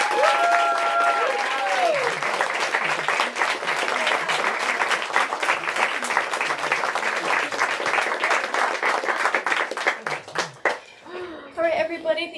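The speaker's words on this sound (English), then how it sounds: "Big round of applause." Audience applause after an author conversation celebrating a new book, a dense wash of many hands clapping steadily for about ten seconds before thinning out, with a few voices rising as it fades.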